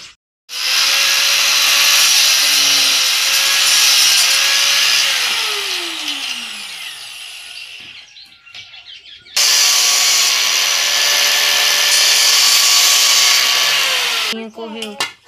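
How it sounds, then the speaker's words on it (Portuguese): An electric sander grinds loudly against wood, running steadily, stopping briefly with some clunks, then starting again at full volume. "Ele vai lixar com a lixadeira"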